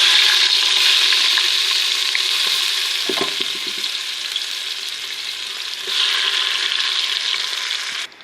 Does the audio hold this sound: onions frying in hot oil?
yes